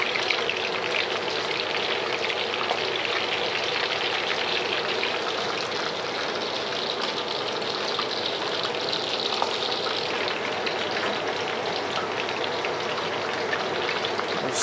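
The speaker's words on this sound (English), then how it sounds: "And then just deep fry these until they're golden brown." Sweetcorn fritters deep frying in hot oil, giving a dense, steady crackling sizzle like heavy rain that holds close and loud throughout, with no voices.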